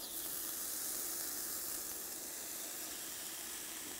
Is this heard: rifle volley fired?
no